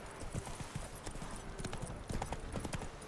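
Hooves of the horse Roach clip-clopping in The Witcher 3, a quick, steady run of close hoof beats over a dense game soundscape.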